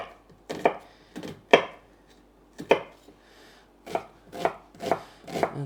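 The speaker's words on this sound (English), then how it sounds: "I need some diced up red onion for that as well." A knife dicing red onion on a cutting board: about eight crisp, close chops in an uneven rhythm, with short pauses between them and no talking.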